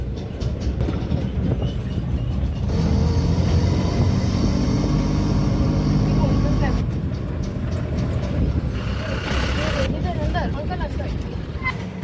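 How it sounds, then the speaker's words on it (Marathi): An auto rickshaw ride carries a continuous rumbling engine drone and road noise, with people talking over it throughout. "आता बसलो रिक्षात"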